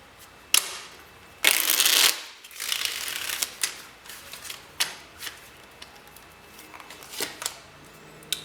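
Crisp riffling and snapping of tarot cards being shuffled, with a loud burst near the start followed by lighter flicks and taps, close up with no talking.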